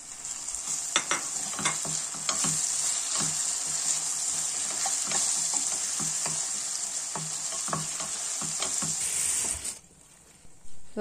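Chili powder and tomato pepper paste sizzle loudly in a hot pan while a spoon scrapes and stirs in an irregular rhythm, close up, before the frying cuts off near the end.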